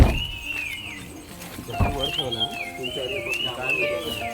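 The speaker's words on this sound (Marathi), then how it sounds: "सगळे पक्षी उठतात आणि आवाज करतात" Several birds chirping and whistling in rising and falling phrases at dawn in a village forest, with someone talking over them.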